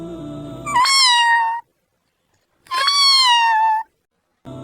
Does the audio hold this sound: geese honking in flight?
no